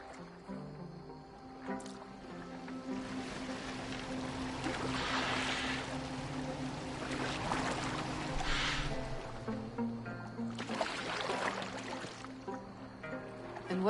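A boat moves through water in Assassin's Creed Valhalla, with steady soft splashing and lapping, swells of wash, and low background music under occasional talk.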